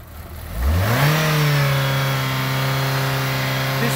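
Engine of a 2009 Chevy Cobalt floored to full throttle, rising from a low rumble into a loud, sustained high-rev drone that holds steady close by, with no talking.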